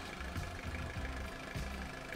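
A boat's diesel engine runs at a steady idle after starting, with a low, rhythmic chugging throb that holds moderately loud throughout and no talk over it.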